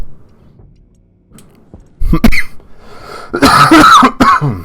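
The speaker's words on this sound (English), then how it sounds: "I've still got this nasty cough" A few harsh coughs close by, in short bursts separated by brief pauses, with a quiet room behind, from a person with a lingering cough.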